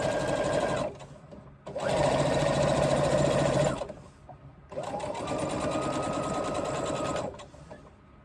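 A sewing machine bastes down an edge and stitches two fabric layers together, running in three loud, close, continuous bursts separated by short pauses.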